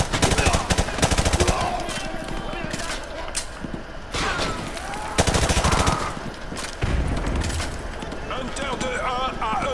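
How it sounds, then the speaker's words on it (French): Heavy gunfire in the Call of Duty Modern Warfare 2 video game, sustained machine-gun bursts and rapid shots throughout, loud and dense, with voices talking over the battle. "On est sous des tirs nourris depuis l'école."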